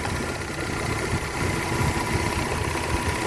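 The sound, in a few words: 1998 Chevy S10 truck engine idling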